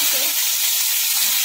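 Sliced potatoes dropped into a little hot oil with cumin seeds in a kadai give a steady, close, loud sizzle and hiss that runs unbroken.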